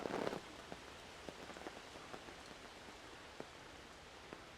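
Summer Shandy beer poured from a can, a soft continuous fizzing wash with scattered faint drips and ticks, quiet and close, no foam surge, with no talking.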